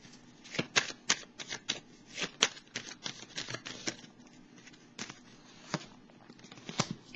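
Small horoscope cards are shuffled by hand in quick, crisp riffling bursts separated by brief pauses, close and quiet with no voices.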